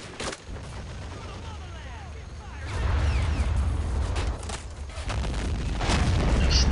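Shelling explosions in the wartime strategy game Men of War: Assault Squad, a steady rumble of booms and gunfire that grows louder and heavier partway through, with a voice speaking over the battle.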